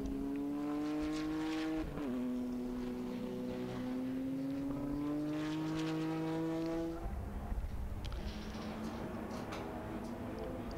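Historic touring race cars, including a BMW CSI 635 and a Skyline, lapping Silverstone: a sustained engine note rising in pitch through the gears, then a change of tone as another car passes, heard at moderate distance.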